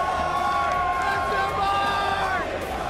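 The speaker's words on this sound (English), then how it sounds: "Crowd giving him some love." A large crowd at a League of Legends Mid-Season Invitational esports match roars and cheers continuously, a dense wash of voices and whoops filling the whole stretch without pause.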